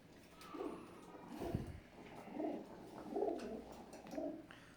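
Several pairs of imported Teddy breeder pigeons coo in soft, low, rolling phrases that repeat every second or so, fairly close, over a faint room background.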